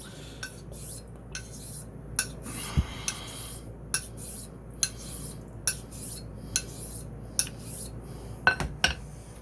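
A knife edge is drawn over Vermont green slate, steel rasping on stone in a steady low scrape under a run of sharp, regular clicks that mark each stroke, close and fairly quiet with no talk.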